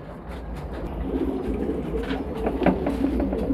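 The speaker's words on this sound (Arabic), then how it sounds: "وده جوز زغاليل صغيرين معهم زغلول كبير ده متطفل عليهم جاي ياكل اكلهم مع الاهالي." Pigeons, adults with young squabs out of the nest, coo softly at close range in soft repeated murmurs with faint shuffling in the background.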